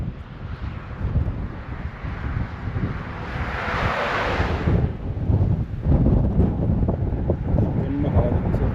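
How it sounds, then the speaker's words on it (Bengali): Strong wind gusts buffet the microphone in a steady, loud rumble among rocky hills and trees, swelling slightly in the second half. "হাওয়া দিচ্ছে"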